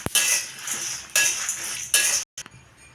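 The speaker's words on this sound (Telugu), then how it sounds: "ఇప్పుడు ఇది వితౌట్ ఆయిల్ అండి, వేయించడం." Sesame seeds and dry coconut pieces are dry roasted without oil in a pan, stirred with a utensil in three loud scraping bursts separated by brief pauses.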